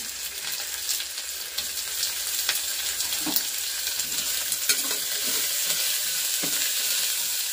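Sliced onion and garlic sizzle steadily in hot oil in a home kitchen pan, a continuous bright crackle broken by occasional scrapes and taps of a stirring spoon, close and fairly loud with no talking.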